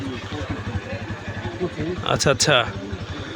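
A used motorcycle for sale at a bike market in Joypurhat idles with a steady low, even thumping, heard under people talking nearby.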